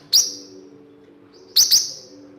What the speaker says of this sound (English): So there's birds outside. He's hearing the birds.